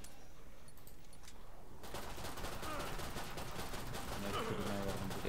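Rapid automatic gunfire in the video game Killing Floor 2, dense bursts that grow louder and busier after a quieter opening, heard over game ambience.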